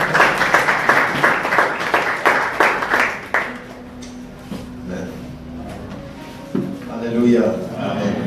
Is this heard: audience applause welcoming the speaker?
yes